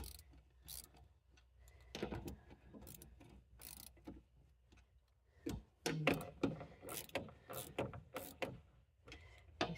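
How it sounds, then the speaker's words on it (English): Irregular clicking bursts come from a small hand ratchet tightening fuel pump bolts on a 2000 Chevy Tracker, close but soft, growing busier in the second half. "I'm just using a small hand ratchet."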